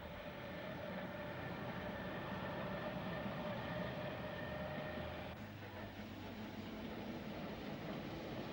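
The Glacier Express rolls over a succession of viaducts on the Swiss Oberalp route, a continuous distant rumble and hum of the moving train with a brief low tone partway through.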